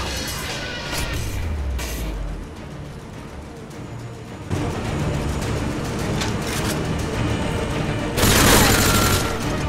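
Gunfire in a machinima video game scene, a few loud bursts and booms scattered through a noisy stretch, with a harsh, brighter blast near the end.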